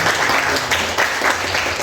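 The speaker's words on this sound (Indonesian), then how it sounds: "Ya, tepuk tangan dulu." Students clapping together in a classroom, loud, close and continuous for the whole short stretch, with no talking over it.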